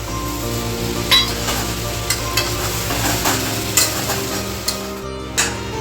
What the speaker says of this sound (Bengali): এবার এই মশলাটা কষানোর জন্য বাটি ধোয়া জলটা দিয়ে দিচ্ছি